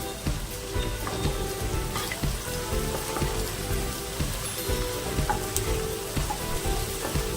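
Fresh curry leaves and onions fry in hot oil for corn chivda, making a loud, dense crackle and spatter like rain, continuous and close with small pops throughout.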